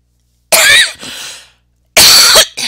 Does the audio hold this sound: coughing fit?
yes